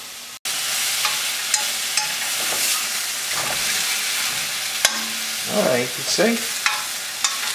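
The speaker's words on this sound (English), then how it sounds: "Now this I saute like this and I put right inside the couscous." Vegetables sautéing in a pan for couscous, a continuous close sizzle broken by scraping stirs and a few utensil knocks, with a brief spoken remark.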